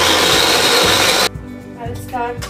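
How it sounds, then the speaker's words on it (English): A kitchen blender pureeing blanched raw tomatoes for cream of tomato soup, running loud and whirring for just over a second, then cutting off into quieter rattling and clatter. "I'll just blend this raw tomatoes which I have blanched and kept it"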